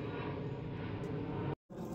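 Airplanes fly overhead above a crab-catching spot in muddy ground, a steady broad roar throughout with a brief cut near the end.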